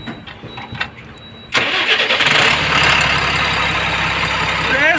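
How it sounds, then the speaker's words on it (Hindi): A diesel truck with a black-smoke exhaust fault is cranked and fires up after a quiet moment, catching abruptly and settling into a loud, close, steady idle; a voice is heard briefly beforehand. "एक बार भैया गाड़ी स्टार्ट करो"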